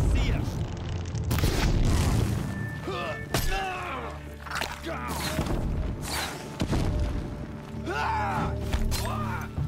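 Explosions in the video game Horizon Zero Dawn: heavy booms and thuds burst out repeatedly across a busy battle mix, with a voice talking over the action.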